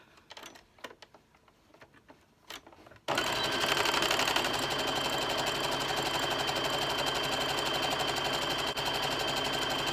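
A sewing machine runs steadily and loudly for about seven seconds, stitching a half-inch curtain hem for a valance or cafe curtain, after a few seconds of quieter handling noises.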